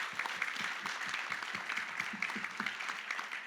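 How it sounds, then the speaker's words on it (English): A modest audience applauds prize finalists at an engineering innovation award event, a steady patter of clapping at moderate distance for a few seconds. "Please, let's give them a huge round of applause."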